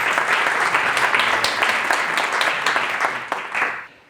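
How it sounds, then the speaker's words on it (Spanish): An audience at a talk about a trip to Antarctica gives a steady round of applause for the speaker. The dense clapping fades out near the end. "un fuerte aplauso a nuestro"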